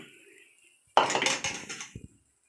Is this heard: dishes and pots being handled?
yes